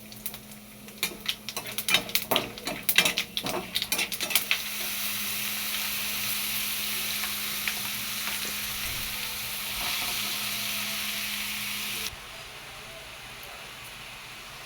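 Bay leaf, cumin seeds, a dry red chili and whole garam masala spices fry in oil in a wok. Stirring clatters over loud sizzling for the first few seconds, then a steady, close, hissing sizzle continues, dropping in level near the end.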